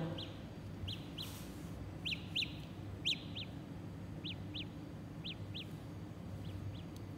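A Samsung Galaxy Buds left earbud sounds its find-earbud alert, thin high chirping beeps in pairs repeating steadily, faint under a low background hum.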